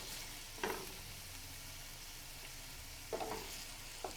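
Onions sizzling in oil in a pan, a steady soft crackle heard close up, broken by a few brief scraping stirs with no talking.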